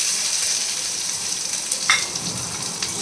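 Green chilli, curry leaves and onion fry in hot oil for sooji upma, a steady moderate sizzle with a sharp crackle and a brief stir near the middle.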